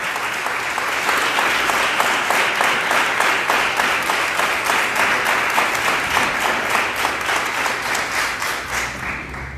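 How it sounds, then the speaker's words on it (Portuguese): A church congregation applauds loudly and steadily throughout, with many hands clapping in a dense wash and some rhythmic unison claps pulsing through it. "Aplauda bem forte ao Senhor."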